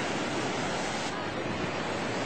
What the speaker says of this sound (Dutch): daar komen de golven hoor